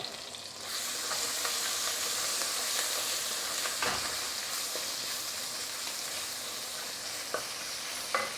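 Ginger and garlic fry steadily in a pan over low gas, a continuous loud sizzle and hiss with occasional scrapes of stirring, no talk.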